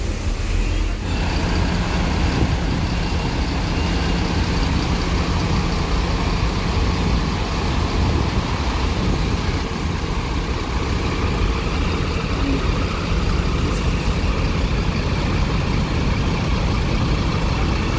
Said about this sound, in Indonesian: Si truk 540 horsepower.